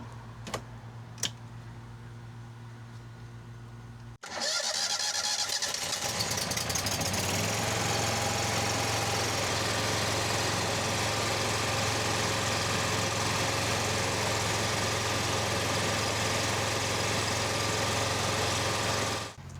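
An old John Deere riding lawn mower engine cranks and catches after a few faint clicks, then settles into a loud, steady close-up idle with a constant rumble for the rest of the clip.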